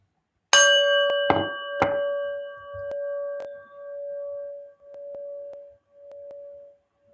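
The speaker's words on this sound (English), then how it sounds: "listen to the bell." A bell is struck several times, each ring clear and sustained, leaving a long shimmering hum that fades slowly between strikes; no one speaks.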